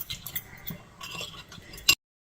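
Close-up clinks and scrapes of a utensil mixing spices, lemon juice and chicken in a bowl, irregular and soft, ending with a sharp clink before silence.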